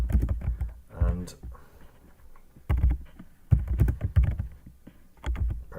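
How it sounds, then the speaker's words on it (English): Typing on a computer keyboard while entering data in Revit software, bursts of quick clicking keystrokes separated by pauses, close and clear, alongside someone talking. "I'm going to type in"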